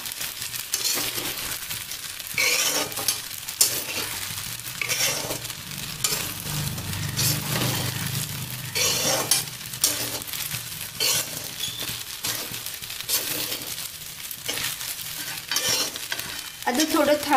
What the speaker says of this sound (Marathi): हे सगळं आपण छान एकजीव मिक्स करून घेणार आहोत.